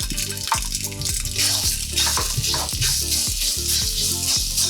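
Sausage dropped into a hot pan, giving a steady, fairly loud hiss and crackle of frying that runs throughout, with light clinks and scraping over the top.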